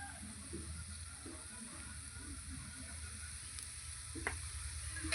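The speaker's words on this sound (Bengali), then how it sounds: "পোস্ত দিয়ে ভালো করে নাড়াচাড়া করে নেব" Leafy greens are stirred with poppy seeds in a pan, a faint, even sizzle with a couple of soft utensil taps near the end.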